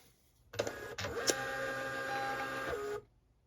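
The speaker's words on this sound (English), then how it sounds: "There is our first label that we've printed." A Munbyn thermal label printer prints a single label with a brief mechanical start, then a steady whirring feed lasting about two and a half seconds before it stops, close by in a quiet room.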